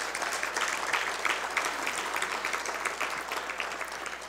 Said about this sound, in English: a nice round of applause for Peter Saltonstall